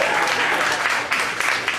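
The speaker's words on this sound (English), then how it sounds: "Give Janie a big round of applause." Steady audience applause fills a mentalism show at Wonderground as a volunteer stands, a dense, continuous wash of clapping that stays loud and even throughout.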